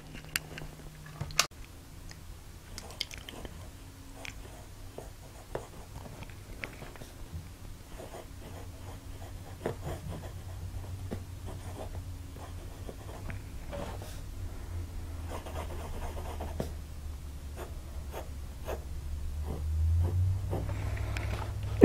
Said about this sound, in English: let's talk about how the nib lays down some ink